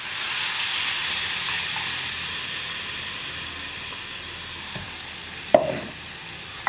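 Curd stirred into a green chilli curry in a hot pan gives a steady hiss and sizzle that slowly fades, with a couple of sharp utensil knocks near the end and no talking.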